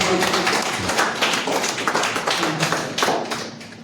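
Loud applause welcomes guests at a success party in Riyadh, a crowded, crackling burst of many clapping hands that stays full and lively before easing slightly at the end.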